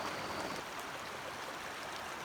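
Ranbang Khola, a river stream, rushes in a soft, even wash of water, faint and continuous with no voices.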